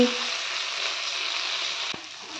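Small prawns frying in hot oil for a Bengali mustard prawn dish, a steady close sizzle that fades at the end, followed by a brief clatter of a utensil.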